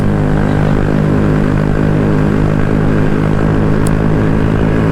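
A Honda Grom motorcycle with high mileage labouring uphill on a mountain road, a loud, steady, droning engine note that holds constant with no pauses.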